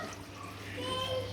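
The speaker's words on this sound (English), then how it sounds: "And I'll just fill the water till it's about" Tap water runs into a slow cooker pot while a beef stew is being prepared, a steady quiet splashing pour that brightens and rises slightly in pitch as the pot fills.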